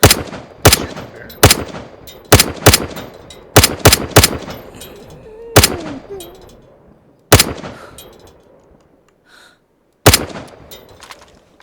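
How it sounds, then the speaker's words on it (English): Gunfire at a bear in an online survival game: about a dozen sharp, loud shots ring out, some in quick pairs and others spaced seconds apart, each with a short echoing tail. "Yeah, I'm shooting the bear"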